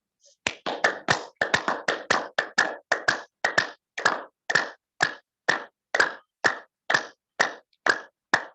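Hand clapping during a group exercise session: a long run of close, crisp claps, quick and dense at first, then settling into a slower, even beat.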